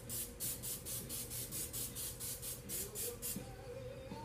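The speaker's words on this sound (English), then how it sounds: "I'm gonna spray those." Short repeated hisses of store-bought cooking spray being sprayed, about a dozen quick bursts in a steady rhythm, close and fairly quiet over a low background hum.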